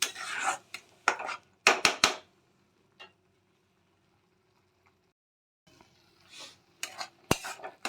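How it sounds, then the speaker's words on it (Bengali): Tomatoes are sautéed in a pan for an egg and potato curry, heard as bursts of spatula scraping and clinks of metal. The clatter comes at the start and again at the end, with a near-silent stretch in between. "তাহলে টমেটোকে আমরা ভালো করে কষিয়ে নেব।"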